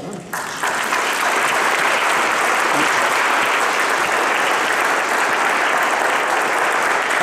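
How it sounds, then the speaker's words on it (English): A large audience at a New Mexico talk on UFOs breaks into loud, sustained applause, welcoming a speaker to the stage in a thick, steady wash of clapping. "Round of applause as we invite you to the stage"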